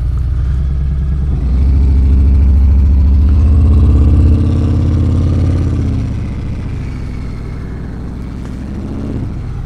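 Engine of a 2018 Harley-Davidson Fat Bob 114 motorcycle, a deep steady rumble that swells for a few seconds and then settles back to a lower, even drone. It is loud and close, with no talking.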